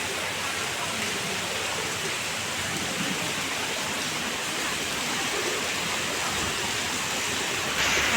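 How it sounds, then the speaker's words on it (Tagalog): Heavy rain pours down in a dense, steady hiss without pause, loud and close throughout with no talk over it. "lakas ng ulan"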